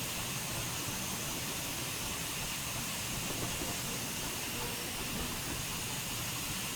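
Steam blowing off from a J70 tram engine in a train simulator game, a loud, constant broadband hiss that stays unbroken and even from start to finish.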